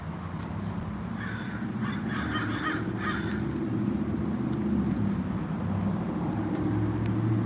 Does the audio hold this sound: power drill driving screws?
no